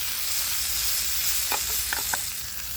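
Steak sizzles in a cast-iron pan at an outdoor cookout in the Toronto woods: a steady, close hiss of frying fat with a few small pops and crackles near the end, and no talking.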